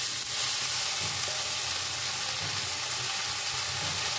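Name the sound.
chopped bottle gourd added to sizzling tempering in pan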